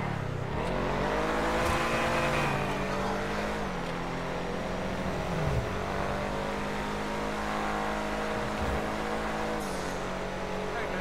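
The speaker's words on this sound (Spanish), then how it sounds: "Este auto tiene mucha fuerza, este es bueno." A car engine in GTA 5 Online drones and revs steadily with shifting pitch, loud and continuous, while someone talks over it.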